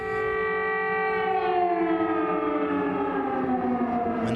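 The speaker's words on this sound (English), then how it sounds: "When the air raid sirens sound, Katya says she's not scared, just angry." An air raid siren in Ukraine wails loudly and steadily, its long held tone sliding slightly downward, with no voices over it.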